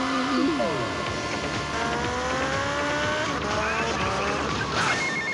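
In Grand Theft Auto: Vice City, a motorcycle engine revs with rising and falling pitch while tires skid and squeal. The game sound is loud and steady throughout.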